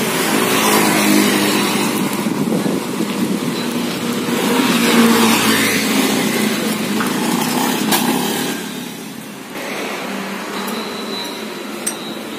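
A motorcycle on a test ride after fresh shock oil was fitted, its engine and road noise a steady broadband roar with wind rush that eases off toward the end, plus a faint clink near the close.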